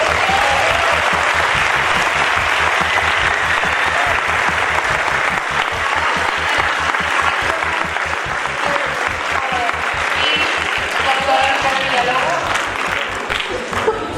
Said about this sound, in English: So I think he deserves like huge applause from everybody.